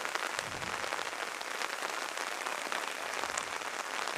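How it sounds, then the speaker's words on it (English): Heavy rain pours down steadily over an outdoor soccer match, a continuous, fairly faint hiss of drops hitting the surface with no pauses. "the rain is back in full force"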